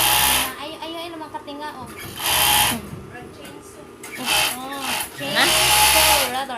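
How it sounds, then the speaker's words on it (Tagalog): Edging (overlock) sewing machine running in bursts, a loud buzzing whir that revs up and stops several times, with a person talking between and over the runs. "this is a normal sound of an edging machine"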